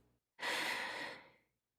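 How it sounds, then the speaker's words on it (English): One deep breath drawn in slowly through the airway, close and quiet, rising quickly and then fading out over about a second. "Deep breath in,"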